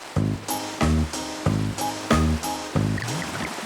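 Minecraft brewing stand priming water bottles with nether wart into awkward potions: five evenly spaced bubbling, chiming bursts, each with a low tonal hum and a bright top, loud and close, with no talk.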